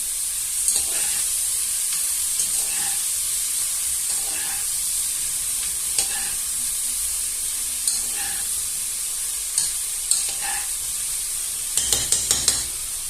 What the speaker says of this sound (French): on va maintenant rajouter nos pommes de terre. Voilà. On va bien remuer.